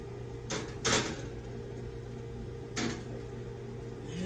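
Baking pans slide onto the racks of a home oven preset to 350 degrees, with a metallic clatter near the one-second mark, then the oven door shuts with a thump, all close by over a low steady kitchen hum.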